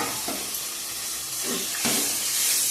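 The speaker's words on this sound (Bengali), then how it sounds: "ভেজে রাখা আলু পনিরগুলো দিয়ে দিলাম" Steady frying sizzle and hiss of fried potatoes and paneer in a pan, with a few soft stirring scrapes partway through and the crackle swelling near the end.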